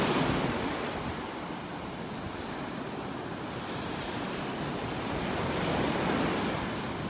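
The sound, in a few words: ocean waves on a beach in North Naples, Florida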